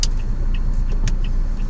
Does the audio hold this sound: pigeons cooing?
no